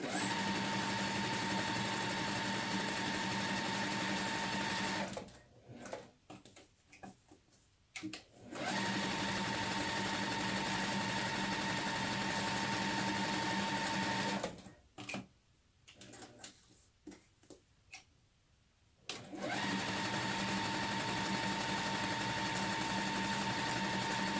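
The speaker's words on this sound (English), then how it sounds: "I'm just going to stitch on the dotted lines" A sewing machine stitching a quilt block runs in long steady whirring stretches, stopping twice briefly with soft handling clicks before starting up again.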